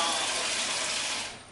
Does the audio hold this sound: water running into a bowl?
yes